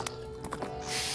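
A horse in The Legend of Zelda: Ocarina of Time gives a few short hoof and snort sounds. A swelling rush of game sound follows at the end, and there is no talk.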